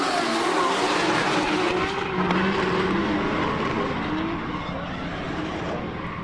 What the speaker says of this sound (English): You can't hear a thing when you got five drift cars just screaming past you